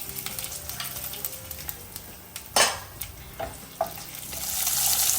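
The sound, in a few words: dried red chillies and cumin sizzling in hot oil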